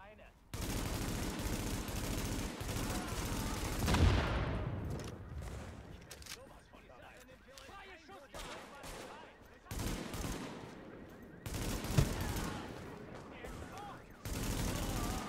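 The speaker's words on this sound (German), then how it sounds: "Durchs Glas habe ich ihn erschossen." Bursts of gunfire in the video game The Division, rapid fusillades and single shots that start and stop abruptly across the span, loud against quieter game ambience, with players talking between the volleys.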